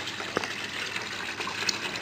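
Water flows continuously from the inlet of an aquaponics grow bed during a siphon test, a steady close trickling and splashing stream with a couple of small bubbling gurgles.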